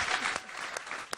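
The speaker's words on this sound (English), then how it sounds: "can everyone join me in thanking these ladies and giving them a round of applause?" A short stretch of audience applause at a music summit panel on women and Black music, continuous clapping from a crowd with a few louder nearby claps popping out.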